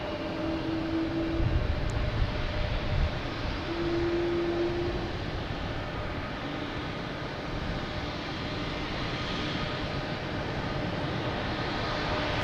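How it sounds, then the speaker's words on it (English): Delta Airbus A220 on arrival at Boston Logan from Austin, a steady broad jet roar at a distance with a faint tonal engine whine, continuous and unbroken. "We have an A220 here coming in from Austin, Delta Flight"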